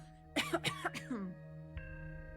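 A short, raspy cough in a few quick bursts, close and clear, over quiet background music in a video game.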